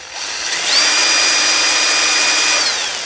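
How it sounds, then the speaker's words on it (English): Power drill spinning a robot vacuum brush shaft, a loud steady high-pitched whine that ramps up, holds and winds down near the end, close and alone. "I put it on my drill"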